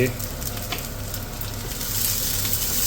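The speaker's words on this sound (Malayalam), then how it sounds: "ഇതൊന്ന് നന്നായിട്ട് വഴറ്റിയെടുക്കുക" Chopped onion sautéing in a pan with a little green chilli, giving a steady, loud sizzle with a faint stirring scrape throughout, growing slightly brighter near the end.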